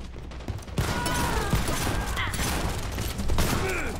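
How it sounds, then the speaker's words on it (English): Video game shotgun blasts boom in heavy, overlapping bursts that fill the whole stretch with loud, gritty reports and mechanical clatter. "Oh, I love the shotgun."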